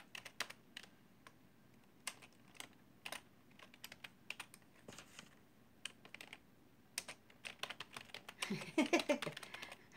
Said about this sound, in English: my feed ended, I gotta type something real quick